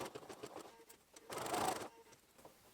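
A sewing machine stitching the sleeve seam of a striped tunic at 5/8 inch, with a soft, quiet burst of rapid mechanical whirring between light taps and fabric handling nearby.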